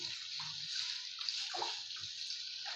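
Water running and splashing as vegetables are put to soak in a sink or bowl, a soft, steady rush with faint sloshes, fairly quiet.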